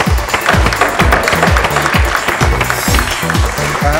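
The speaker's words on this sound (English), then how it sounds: "would you please welcome to the stage with your enthusiastic applause" Enthusiastic applause at a school education competition awards ceremony as a team is welcomed to the stage, loud and steady with dense clapping and rhythmic thumps throughout.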